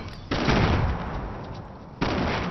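Loud bursts of gunfire in the video game Fortnite Battle Royale, with a dense sustained volley of shots, a brief dip, then another sharp burst near the end, heard alone without talk.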